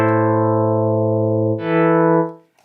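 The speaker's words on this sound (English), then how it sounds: "we have to add some attack to the sound, like this. So you get this swelling kind of sound to it." A synth pad built in Harmless in FL Studio 20 holds a rich sustained tone, then a second higher chord swells in gradually and fades away, loud and close with no talk.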